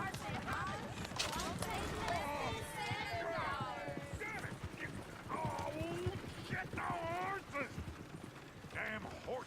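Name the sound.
horse-drawn coach in video game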